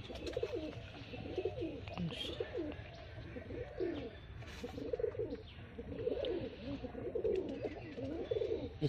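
Pigeons in a loft cooing close by, repeated soft rolling coos in a steady rhythm with occasional chirps, and faint talk in the background.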